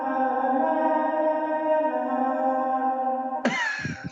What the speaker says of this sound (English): it sounds like a child singing.